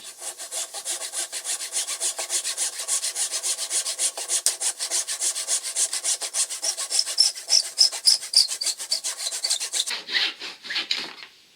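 A hand saw cuts steadily through wood while making a workbench hook, its rapid back-and-forth rasping strokes close and even for about ten seconds before the cut finishes with looser, lighter strokes.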